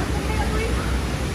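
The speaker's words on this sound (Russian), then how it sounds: "Самый главный водопад. Посмотрите, с какой высоты он течет." Dudhsagar Falls in Goa roars with a steady, dense rush of water that stays continuous and loud throughout, with no pauses.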